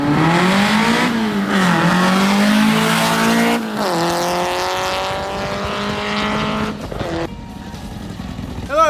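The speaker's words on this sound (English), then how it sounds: "Rev up your engines!" Car engines revving hard, with rising and falling engine tones and gear shifts, tire squeal near the end, loud and close, with a voice mixed in among the engine noise.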